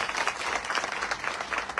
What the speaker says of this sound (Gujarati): આ ટીમને એકવાર જોરદાર તાળીઓ આપી